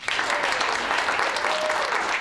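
Virtual round of applause for a guest speaker at an online networking talk, a steady wash of clapping held at even loudness for a couple of seconds, with no voices over it.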